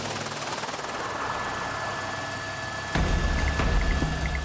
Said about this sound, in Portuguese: O repórter Paulo Zero embarca no helicóptero da CESAI, a Secretaria Especial de Saúde Indígena.